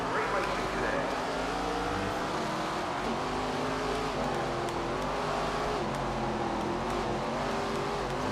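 Race cars roaring through a heat race in the SRX: The Game racing video game, a steady loud engine drone with shifting revs throughout, dense and continuous with no clear pauses.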